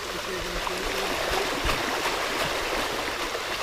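A mountain bike ploughs through deep water over the pedals, giving a dense continuous rushing splash and churn, loud and close, with brief low thumps from the ride underneath.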